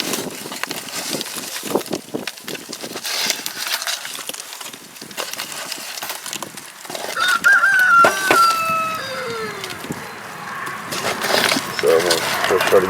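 Chickens cluck around the coop and a rooster crows partway through, close and fairly loud, mixed with scattered knocks and clatter while a person talks over parts of it.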